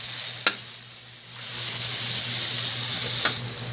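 Onion and garlic sauté in a pan for pork asado filling, giving a steady, moderate sizzle and hiss with two sharp stirring clicks and a swell of frying noise midway.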